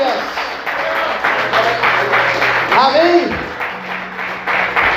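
A church congregation applauds with a broad wash of clapping that keeps going under a preacher's voice, and voices call out during it.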